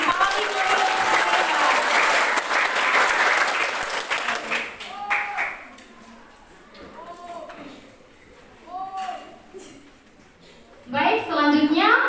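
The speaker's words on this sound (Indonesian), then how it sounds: "Kita berikan aplaus yang paling meriah." An audience at a high school student council candidate debate claps warmly. The applause is loud and sustained for about four seconds, fades into scattered claps, and then a short burst of clapping returns near the end.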